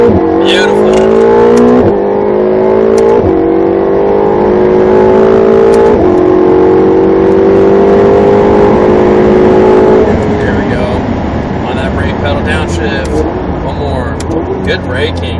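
A Ferrari 488 GTB engine accelerating on a track, loud and close, rising through repeated gear changes in climbing whines before braking and downshifting, with an instructor's voice speaking over it.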